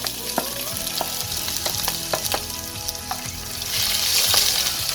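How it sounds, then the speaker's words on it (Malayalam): Chopped chili and ginger sautéing in hot oil in a pan, a continuous close sizzle with scattered scraping stirs, the frying growing a little louder near the end, with no talking. "നല്ലോണം ഒന്ന് വഴറ്റിയെടുക്കണം"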